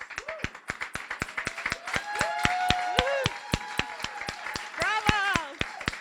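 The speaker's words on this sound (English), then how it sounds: "A big round of applause for all our raisers." Applause at a guide dog school graduation honoring puppy raisers, with a few sharp, rhythmic nearby claps over an audience, while voices talk and exclaim and a dog yelps during the clapping.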